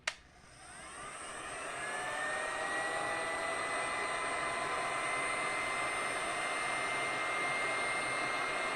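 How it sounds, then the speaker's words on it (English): A handheld heat gun switches on with a click and spins up into a steady, loud blowing whoosh with a faint high whine, running continuously without talk while used on diamond painting rhinestone bags. "Okay, I got my heat gun."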